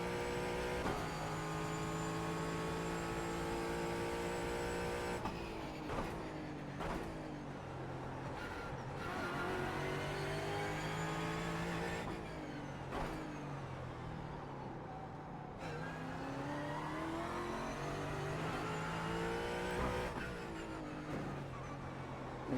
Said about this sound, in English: A German V8 seems to be outdoing this American V8.